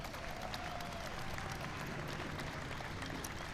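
An audience at an anniversary event for the Americans with Disabilities Act applauds a speaker, a dense, steady wash of many hands clapping from some distance, faint and continuous with no talk over it.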